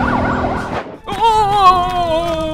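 An ambulance siren in a LEGO animation wails with a loud, steady electronic tone, holding close and clear after a brief warbling pattern and a short dip.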